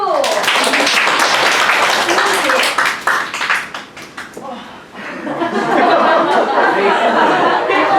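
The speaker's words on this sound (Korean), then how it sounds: "박수!" A classroom of middle school students claps loudly and steadily, fading briefly in the middle before swelling again, mixed with chatter and light laughter.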